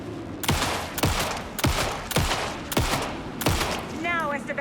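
Loud gunshots from the video game Alan Wake 2 fire in a fairly regular series of five or six sharp blasts, each with a reverberant tail, and a brief electronic warble at the end.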